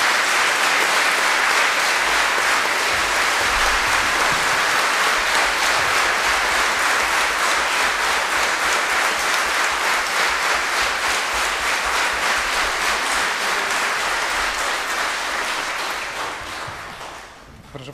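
Sustained, dense applause from a concert audience for the Łomża philharmonic orchestra, loud and even for about fifteen seconds before gradually fading out.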